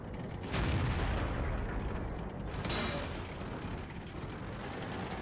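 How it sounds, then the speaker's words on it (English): Artillery shells exploding in the World of Tanks game, two heavy booming blasts with rumbling tails over a constant low engine drone, no voices. "And then we can see the artillery shells just missing the Carnarvon."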